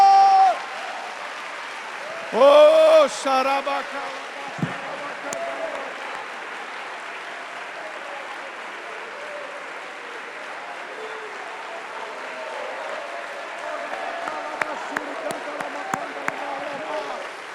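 A congregation at a church revival gathering applauds for Jesus, a long, sustained wash of clapping and crowd noise after a loud voice at the start, with occasional speech over it.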